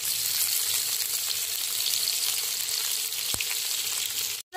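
Paneer pieces frying in hot oil with butter, a steady near sizzle with one sharp tap near the end, and no speech.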